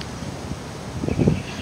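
Wind gusts through a forest park, a soft low rush that swells to a stronger burst near the end, close to the microphone with no voices.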